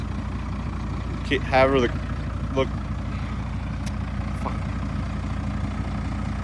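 A Cummins 12-valve diesel truck engine idles just after a cold start, a steady low rumble that holds throughout. Someone speaks briefly over it.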